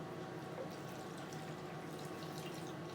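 Warm tap water runs steadily into measuring cups at a kitchen sink for pizza dough, an even, close rushing flow throughout.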